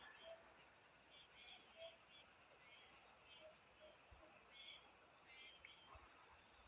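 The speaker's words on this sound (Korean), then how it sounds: "뻐꾸기, 그리고 각종 매미들, 그리고 풀벌레 소리들" Cicadas and grass insects around a pine-ringed rural plot in the countryside: a continuous high, bright cicada drone fills the background, with faint scattered chirps and a few distant bird calls, all quiet and steady with no talking.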